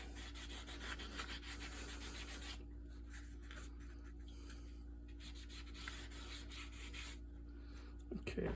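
Steady dry rubbing of a tool against a freshly adhered book spine during binding repair, a continuous close scraping texture with a faint low hum beneath and a brief knock near the end.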